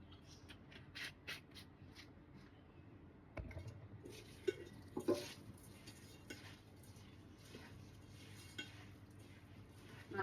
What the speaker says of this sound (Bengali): এখন শুধু আমি তেল দিয়ে মাখিয়ে নেব